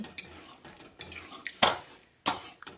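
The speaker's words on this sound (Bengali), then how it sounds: "একসঙ্গে ভালো করে নেড়েচেড়ে মিশিয়ে নিচ্ছি।" Boiled chickpeas and peas being stirred with fried potatoes in a pan, four or five close distinct scrapes and clinks of a spatula against metal, quiet between strokes, no talk.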